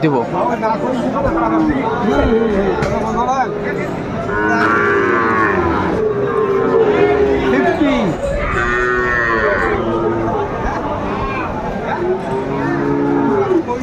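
Cattle, including Sahiwal bulls and calves, moo repeatedly at a busy livestock market in Kurigram. Several drawn-out calls rise over constant crowd chatter and people talking nearby.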